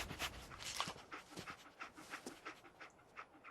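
Dogmeat, the German Shepherd companion in the video game Fallout 4, pants quickly and rhythmically, quiet and close, with faint whimpers and no speech.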